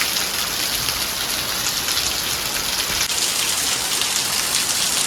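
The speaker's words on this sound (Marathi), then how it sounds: "आता जरा पाऊस लागल्यासारखं वाटतं आहे" Steady, heavy rain pours down in a dense, even hiss without pause, close and loud.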